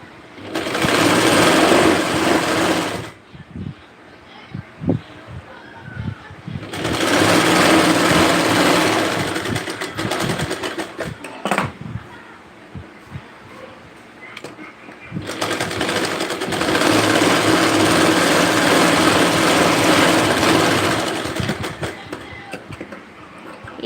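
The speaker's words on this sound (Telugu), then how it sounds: "ఇది కూడా 1/2 ఇంచ్ వరకు పెట్టేసుకొని స్టిచ్చింగ్ అయితే చేసేసుకోవాలి." Sewing machine stitching crepe cloth in three loud, sustained runs, each several seconds long, with quieter gaps of handling noises between them.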